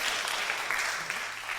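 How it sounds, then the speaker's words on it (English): A church congregation claps and cheers for the sound crew, a dense, steady burst of applause filling the room for a moment. "You guys just clap for the sound guy"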